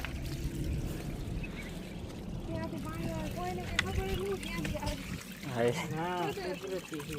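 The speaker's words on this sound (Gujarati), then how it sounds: "જુઓ મિત્રો અહીંયા કુદરતી પાણી નીકળે છે" Natural spring water flows out of the ground, a steady running wash that continues throughout while people talk nearby.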